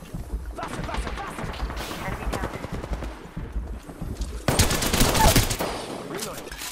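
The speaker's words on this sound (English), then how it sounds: "Opening fire. Getting shot at." Video-game gunfire rattles in dense, rapid bursts of automatic shots that surge louder near the end, with busy in-game action sounds layered around the firing.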